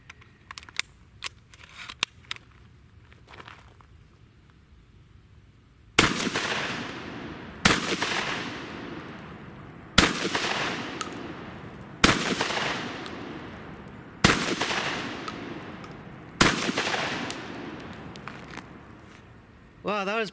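Six loud, sharp reports from a Remington V3 Tac-13 shotgun firing 1 ounce slugs, evenly spaced about two seconds apart, each with a booming decay after a quiet stretch of faint clicks.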